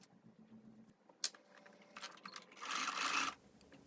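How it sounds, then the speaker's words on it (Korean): A sewing machine stitches a seam on a summer cardigan, heard as a short, quiet whirring run after a few light taps and clicks nearby. "재봉합니다."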